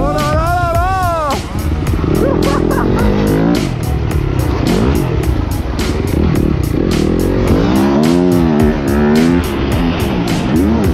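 Yamaha YZF 250 motorcycle engine revving while riding, loud buzzing engine note rising and falling in pitch through gear changes, with a voice talking over it and wind noise.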